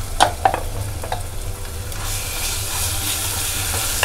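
Ginger, garlic and green chili paste sautéing in a hot pan, a few sharp clanks and spatters early, then a steady hissing sizzle that swells slightly, close and loud, with a low hum underneath.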